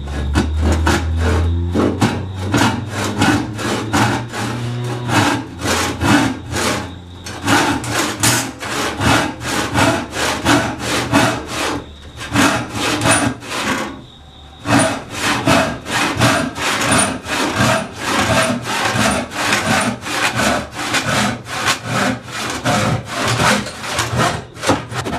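Repeated hand-saw strokes cut through 2x4 wooden seat slats for a kitchen bench, a steady, close, loud back-and-forth rasp running nearly continuously with brief pauses between cuts.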